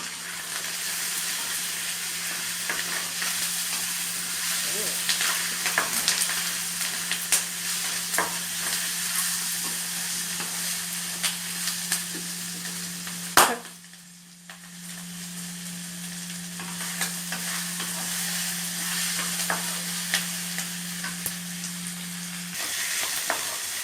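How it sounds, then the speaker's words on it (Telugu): Native country chicken fries with a steady, close sizzle in a pan, broken by continuous stirring scrapes and one sharp knock midway, followed by a brief quieter gap before the frying resumes. "ఇప్పుడు మనం ఫ్రైకి సరిపడినంత మాత్రమే సాల్ట్ వేయాలి. వేసి వేయించాలి."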